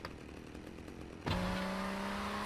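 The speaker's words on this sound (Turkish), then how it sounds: "Sırf adam öldürmem için bana bir tane testere verdi. Elektrikli testere verdi." Electric chainsaw in the video game GTA Vice City, a steady high droning game ambience that abruptly gives way to a loud, close chainsaw whine with a sustained buzzing hum.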